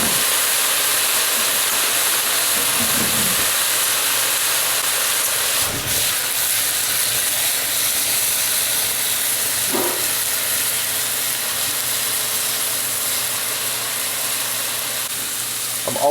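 About four ounces of rum hits a hot pot of beef stew, giving a steady, loud sizzling hiss that holds evenly throughout with no voices.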